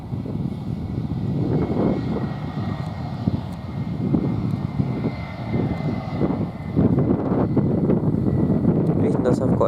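A jet airliner rolling out on the London Luton runway with reverse thrust, a broad, steady roar from a distance buffeted by wind noise on a windy afternoon.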